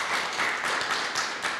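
Audience applause at a talk on contemporary antisemitism in Westminster, a steady dense patter of many hands clapping throughout, fairly even in loudness with no voices over it.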